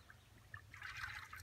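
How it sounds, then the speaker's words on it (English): Macaroni and cheese mixture, stirred together with a fork, poured into a Dutch oven over noodles at a campsite, giving a soft, close trickling pour that swells in the second half over a low background hum. "Then we'll pour this mixture in."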